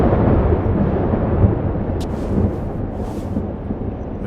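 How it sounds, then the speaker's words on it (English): Deep thunder from a storm in the game Life is Strange: Double Exposure, a loud continuous rumble that fills the whole stretch with low roaring energy and slowly eases off, with no voices. "This storm... I've been through something like it before."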